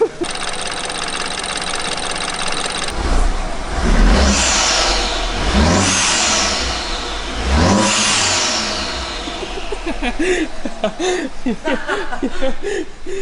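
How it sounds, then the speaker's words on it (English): A BMW F30 engine with a single big turbo revs hard several times in rising sweeps, the turbo whistling and spooling up with each push, then settling into a rough idle. "turbo spools, bro. Big turbo, so single turbo."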